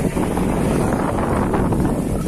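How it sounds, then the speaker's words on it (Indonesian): Strong wind buffeting the microphone at a colonial-era cultivation-system site in Java, a loud continuous roar with no break. "anginnya sangat kencang, udaranya sangat sejuk."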